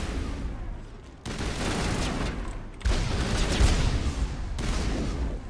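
Sniper gunfire in the video game Mass Effect 1 comes as loud, broadband bursts of shots and impacts, a sharp onset near the start and another heavy hit midway, with a dense, noisy battle bed throughout.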